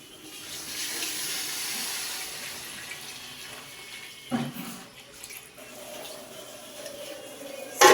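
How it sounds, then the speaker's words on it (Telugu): Water poured into basmati rice for pulao, a continuous gushing splash that rises and falls, with a couple of short knocks of the vessel, one at the very end. "సో 4 గ్లాసెస్కి 6 గ్లాసెస్ వాటర్ తీసుకున్నాను. సో వాటర్ అయితే పోసేద్దాం."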